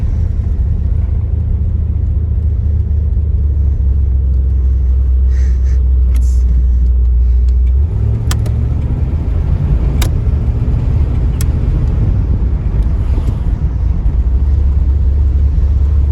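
A third-generation Pontiac Firebird with badly off alignment rolls along a road with a steady low engine rumble and tyre noise, a few faint clicks and rattles over the drone.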